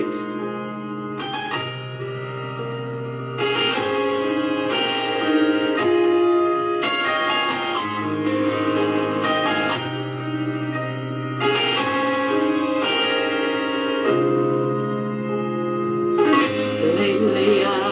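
Bells ring out a hymn-like piece during a funeral service, with sustained harmonic chords in phrases separated by short pauses, steady and fairly loud throughout with no voices.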